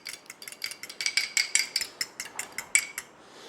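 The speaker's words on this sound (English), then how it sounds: "I have 1 egg here. I'm going to actually beat it while it's in here." A fork whisks a single egg inside a container, giving a quick series of rhythmic light clicks and taps, close and clear, with no talking.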